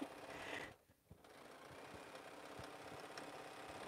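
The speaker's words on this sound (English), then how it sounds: "I just wanted to sew that seam just to clear out some of my space here" A sewing machine stitches a quilt seam with a faint, steady mechanical whir and soft rhythmic ticking that pauses briefly near the start and then carries on quietly.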